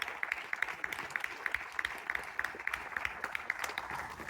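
Audience applause at a Next Steps presentation session, a steady patter of many hands clapping at moderate distance, fairly soft and even throughout with no talk over it.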